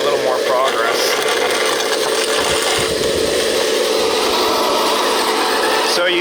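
A ten-wheel-drive, ten-wheel-steer RC snow plow truck pushes and curls snow, its electric motors whining steadily with scraping and crunching, loud and close throughout.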